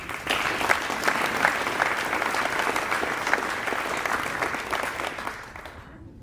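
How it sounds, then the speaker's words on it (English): Applause fills the room at a 2024 awards night as team members are honored, a full, lively round of clapping that stays strong for several seconds and then fades out. "Give these ladies another round of applause, please"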